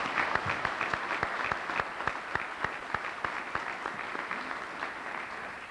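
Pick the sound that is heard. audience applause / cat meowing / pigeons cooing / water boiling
audience applause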